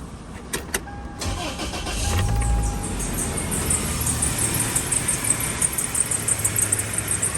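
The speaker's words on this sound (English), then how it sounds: "the belts are chirping pretty badly too" Worn drive belts on a Toyota Tacoma's 2.4-liter four-cylinder engine squeal and chirp steadily as the truck starts and runs, a high thin whine held over a loud, close engine rumble.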